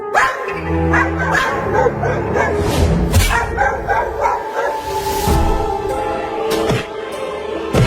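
A pack of dogs barks continuously and excitedly in front of a wooden house, overlapping yips and woofs at close range with no pauses for the whole stretch.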